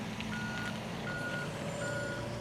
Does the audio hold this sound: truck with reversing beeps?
yes